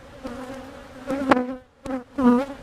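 Honeybees buzz around a weak hive during an inspection after bad weather, their agitated hum rising and falling in short close bursts near the microphone.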